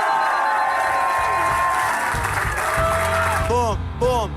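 An audience at a political campaign speech applauds in a steady, dense wash of clapping that lasts throughout, with voices and a few tonal sounds mixed in toward the end.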